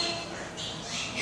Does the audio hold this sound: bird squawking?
yes